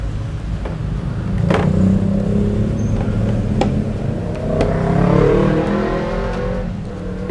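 A passenger car is pulled over to the roadside, its engine a steady low hum that swells gently as it moves, with faint clicks and tire noise and no talking.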